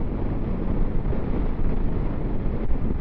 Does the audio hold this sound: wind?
yes